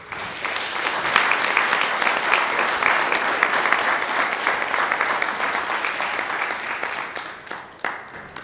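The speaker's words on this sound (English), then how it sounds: "I want everyone to give a big hand of applause to their children" Mourners at a memorial service for a wife give sustained applause, a dense, crackling patter of many hands clapping loudly and steadily, thinning toward the end with a few scattered final claps.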